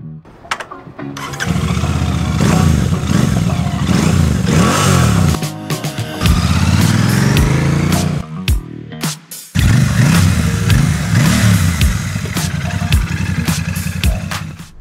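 A 2025 Royal Enfield Bear 650 motorcycle starts up close and loud, its engine catching and then revving repeatedly, with rising and falling throttle blips, short cuts between bursts and a throaty rumble, with no talk.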